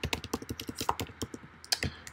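Rapid clicking keystrokes on a computer keyboard as commands are entered in a terminal during a Hack The Box penetration-testing session, close and clear, in uneven bursts with short pauses and one louder key strike near the end.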